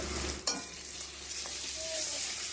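Onions sizzle and fry in a pan with ginger-garlic paste, turmeric and salt while they are stirred for a river fish curry. The steady hiss carries on throughout, with one sharp clatter from the stirring near the start.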